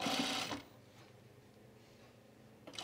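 A sewing machine stitches pajama bottoms in two brief close bursts, one at the start and one at the end, with a quiet pause between.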